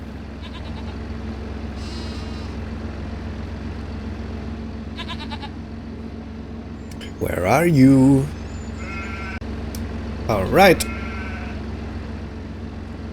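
Goats on a farm giving two loud, wavering bleats a few seconds apart over a steady engine hum, with someone briefly speaking beforehand.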